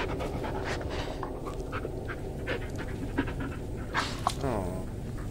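Bullet, a purebred dog in the video game Blair Witch, pants in quick, rhythmic breaths close up, steady throughout with faint game ambience beneath.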